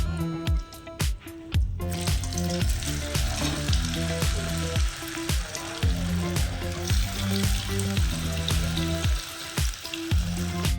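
Mushrooms fry in hot oil for a roadside-style dish, with a loud, steady sizzle close by, broken by a few sharp clinks of utensils at the start.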